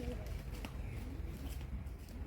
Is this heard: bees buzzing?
no